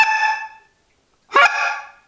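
Two loud, nasal honks of a greylag goose call are blown on a Hammer goose caller, each drawn out and separated by a brief silence, with no other sound.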